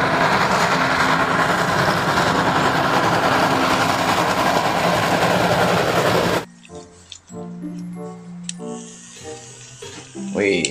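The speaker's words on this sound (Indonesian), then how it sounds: "Ada kereta api uap." Toy steam train: a loud, dense mechanical rushing rattle fills the first several seconds, then cuts out abruptly, leaving sparse clicks and softer tonal sounds.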